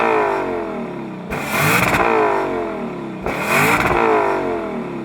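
The naturally aspirated engine of a Lexus LC500 convertible revving hard in two loud bursts, each rising from a steady idle and falling back to it.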